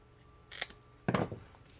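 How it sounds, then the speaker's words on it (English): Two quick scissor snips cut through folded paper loops into short pieces, each a crisp close-up crunch of blades closing, separated by about half a second of quiet. "You can take a scissors and simply cut them into 3 1/2-inch pieces."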